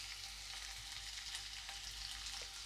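Finely chopped onion frying in hot ghee with cumin seeds and asafoetida, a soft, continuous sizzle heard fairly quietly and evenly throughout.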